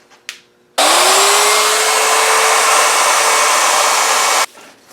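A router rounds over the edges of a scrap-wood cutting board in one loud, steady, continuous roar of nearly four seconds, starting abruptly and cutting off just as suddenly.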